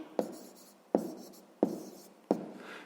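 Pen or chalk writing out a sixth-grade math solution: four distinct stroke bursts, each a sharp scratchy onset trailing off, spaced roughly evenly, close and fairly quiet with no talking.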